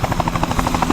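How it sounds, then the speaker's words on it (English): A helicopter flying anti-poaching support over a large park produces a steady, rapid rotor chop with a droning buzz, close and fairly loud throughout. "The helicopter has been coming in to help us so that we can patrol as much as possible"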